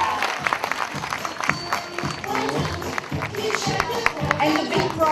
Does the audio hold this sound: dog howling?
no